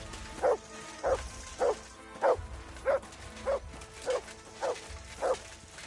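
A dog barks in a medieval village in the game Kingdom Come: Deliverance, about nine evenly spaced barks at moderate distance over a quiet ambient background.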